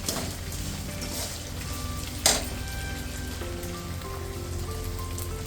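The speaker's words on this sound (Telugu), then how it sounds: "పోపు అంతా వేగిపోయింది" Chillies and curry leaves crackle in hot oil as a pulihora tempering fries, a steady close sizzle with one sharp pop partway through.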